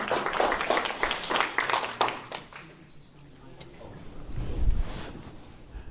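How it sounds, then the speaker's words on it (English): Audience at a live keynote talk gives a short round of applause, a crowded patter of claps for about two seconds that quickly dies down into room murmur and shuffling. "Let's go ahead and give Darrin a round of applause and have him get started"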